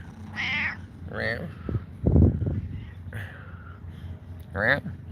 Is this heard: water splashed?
no